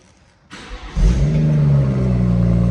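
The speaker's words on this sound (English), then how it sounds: "going to start the car for me" A BMW M140i Shadow Edition automatic engine cranks briefly, catches, and settles into a loud, steady idle with a deep rumble close by.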